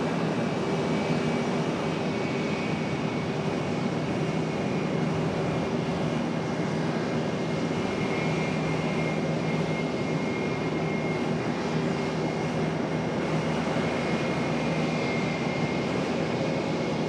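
Boeing 777 airliner taxiing slowly at Charlotte airport, a steady distant engine roar and whine holding level throughout with no voices.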